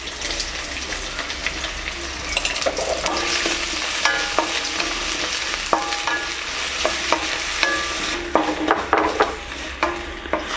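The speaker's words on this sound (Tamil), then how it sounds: "நல்லா வதங்கட்டும்." Onions sautéing in a pan with salt, a loud close sizzle broken by frequent clinking, scraping strokes of a spoon stirring against the metal, with no talk.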